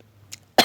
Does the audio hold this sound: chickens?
no